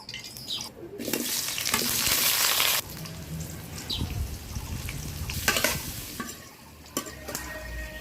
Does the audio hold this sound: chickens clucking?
no